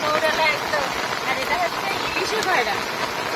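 Heavy rain pours steadily on a Sundarbans fish farm, a dense, loud hiss of drops hitting water and surfaces that holds throughout with no gaps.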